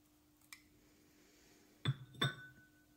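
A spoon clinks against a mug while pancake batter with baking powder is stirred: a faint tap, then two sharp, close glassy clinks with brief ringing, heard alone without talk.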